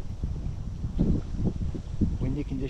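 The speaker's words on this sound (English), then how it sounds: "Man, it is windy." Wind gusts buffet the microphone beside a pond in Fall River, Massachusetts, making a steady low rumble with louder surges throughout.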